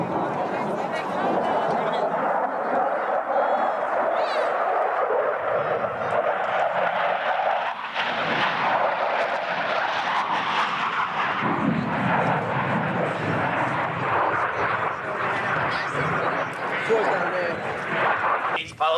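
Jet aircraft roar steadily overhead throughout a 1997 naval air show at Oceana, a loud continuous engine wash with a swell near the middle, mixed with crowd chatter and announcer talk.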